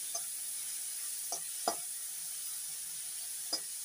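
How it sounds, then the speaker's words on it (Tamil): Herbs soften in a hot pan for a sweet corn rice dish, giving a faint, steady hiss broken by a few soft spoon taps, quiet and without talk. "இப்போ இது நல்லா வதங்கட்டும்."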